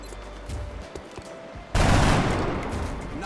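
Burst of gunfire in the turn-based strategy game XCOM Long War, a loud sustained volley erupting partway through after quieter ambient game sound.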